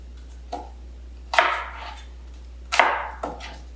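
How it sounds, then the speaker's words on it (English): Knife chopping vegetables into chunks for butternut squash soup, four distinct cuts on a board at irregular intervals, the second and third louder, heard close over a low steady hum. "these get cut into pieces about the same size as the squash"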